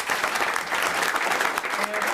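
A school committee meeting audience gives a steady round of applause for a Hockomock League All-Star student athlete, dense clapping filling the room evenly from start to finish.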